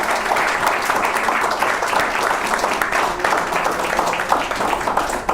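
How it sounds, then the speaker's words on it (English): Audience applause for presenters at a reparations forum, a steady dense wash of clapping running throughout without a break, moderately loud and close. "We'll have a round of applause for our presenters."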